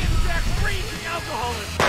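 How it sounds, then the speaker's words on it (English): A firecracker blast in a VR bar-fight video game: one sudden loud broadband bang near the end, following a stretch of busy game sounds and voice-like noise. "I'm going to put this firecracker up your ass."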